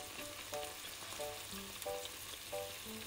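Breakfast order frying in a pan with rice on the side, a steady close sizzle throughout, with faint tonal beeps recurring in the background and no talk.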